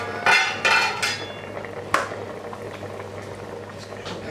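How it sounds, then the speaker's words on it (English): A pot of curried chicken cooking over high heat, with a lid lifted off and metal clatter at the start, then a steady bubbling simmer continuing alone at moderate volume. "The chicken's been on a high heat cooking now for a further 5 minutes."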